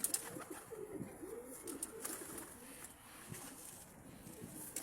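Pigeons coo softly nearby, low murmuring calls repeating beneath wind and rustling outdoors, with someone speaking intermittently over them.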